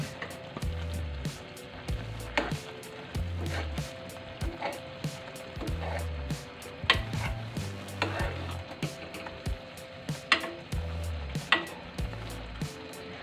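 A spoon works coarsely crushed green cardamom into sugar syrup for paneer murki, making soft rhythmic scrapes and low wooden knocks against the pan, fairly quiet and steady for several seconds.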